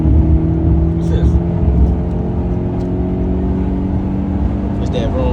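Genesis V8 car engine heard from inside the cabin while driving, a loud steady low drone with humming tones and road rumble, and people talking over it.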